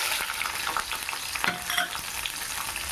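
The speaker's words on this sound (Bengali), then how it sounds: "চলুন ভেজে নিই পেঁয়াজটা" Chopped onions sizzle hotly in mustard oil in a wok while a spoon scrapes and stirs through them, a busy crackling hiss with bursts of clatter, close up.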